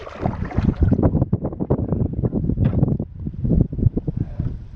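Strong wind buffets the microphone while canoeing on a lake in the Boundary Waters wilderness, making a loud, gusty, rumbling roar in uneven surges that runs throughout.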